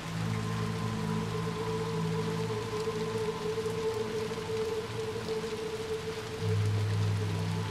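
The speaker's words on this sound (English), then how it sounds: "Let's get you out of the rain." Steady rain pours in the video game Little Nightmares 2, a continuous hiss filling the scene alongside low droning tones and a faint high whine, with no talk over it.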